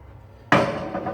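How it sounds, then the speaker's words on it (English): A single sharp hammer strike against a 205 TS eco valve plate, a sudden close metallic knock that rings briefly and decays, after near silence. "go with a hammer because it's what I have here at the moment"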